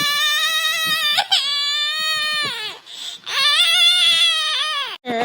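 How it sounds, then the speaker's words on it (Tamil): An infant cries loudly and close by in long, wavering wails broken by short gasping breaths, with a brief pause midway before the crying resumes, on a rainy day at home. "குழந்தை அழுவுது என்னன்னு பாருங்கடா."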